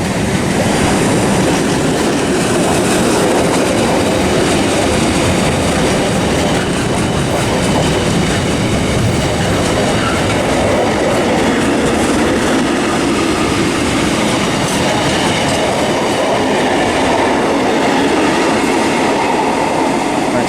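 Continuous loud roar and rumble of a passenger train rushing close past the platform at Reading West station, wheels clattering steadily over the rails for the whole stretch with no voices.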